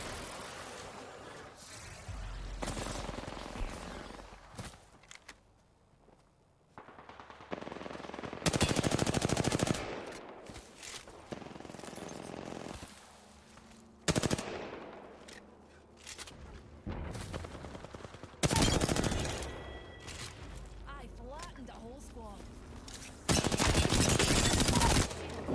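Spitfire machine gun from a video game firing in repeated long bursts, loud and rapid, broken by short pauses and mixed with other gunfire and booms.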